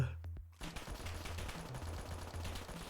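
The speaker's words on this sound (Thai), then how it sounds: "ดูคาโก้มันยิงดิ" Video game gunfire in Roblox rattles in a continuous rapid automatic burst, dense and steady throughout.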